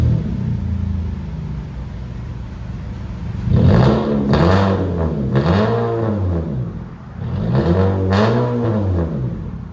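A straight-piped 2024 Honda Civic Sport with a 2.0L engine idles with a low rumble, then revs twice in loud, rising-and-falling sweeps close by, with a raspy tone and a clattering edge.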